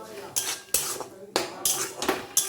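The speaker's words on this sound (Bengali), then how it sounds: "এবার এইভাবে ভালো করে আমি নাড়তে থাকবো যতক্ষণ না শুকনো হয়।" Carrot paste being stirred in ghee in a pan for carrot laddu, a quick series of loud metallic spoon scrapes and clanks against the pan, about seven strokes in an uneven rhythm, close and clear.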